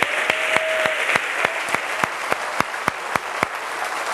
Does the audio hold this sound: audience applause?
yes